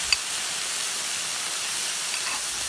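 Marinière liquid hitting a hot plancha full of mussels, giving a steady, close broadband hiss of steam that keeps going without pause, with no voices.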